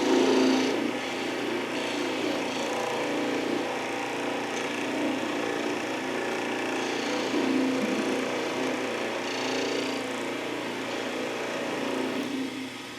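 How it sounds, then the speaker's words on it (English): Wood spinning on a lathe being cut with a vortex tool, a steady, fairly loud whir and scraping hiss that swells and eases slightly throughout, with no talk. "I can get all the way in that little space that's that wide and cut this off smoothly."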